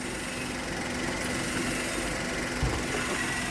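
A 2011 Maruti WagonR with 53k driven idles close by, its engine a steady, even hum that barely changes from start to finish.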